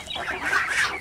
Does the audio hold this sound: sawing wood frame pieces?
no